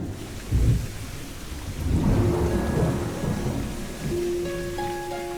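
A deep rumble of thunder rolls through a steady afternoon rain shower on a mountainside, followed by lighter dripping and faint tonal sounds toward the end.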